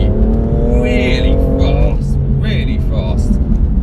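A 2018 BMW M4 Competition accelerating hard in third gear, its engine note rising loud and close from inside the cabin, with the pitch climbing and shifting and someone talking over it.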